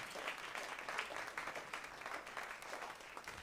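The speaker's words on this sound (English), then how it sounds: "Let's give another final round of applause to our salsa dancers this evening." Steady applause from an audience after salsa dancing, a dense wash of clapping that holds at an even level throughout, fairly faint and distant.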